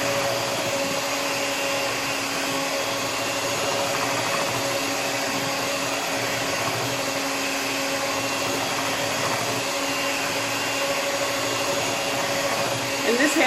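A cheap electric hand mixer runs steadily while kneading bread dough for basic white bread, a continuous whirring motor drone with a constant tonal hum that holds evenly throughout, close and fairly loud.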